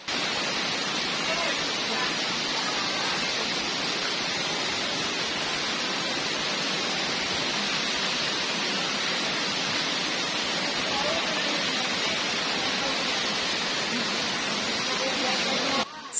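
Waterfall at Tahura Sultan Adam park, a constant broad rushing of falling water, steady and fairly loud for the whole stretch, alone with no voices.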